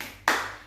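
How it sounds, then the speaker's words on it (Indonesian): A single sharp hand clap from a group in an Indonesian classroom-style training session on stunting prevention, bright and brief with a fading tail, no talk over it. "tepuk tangan dulu, tepuk hebat untuk kelompok 1"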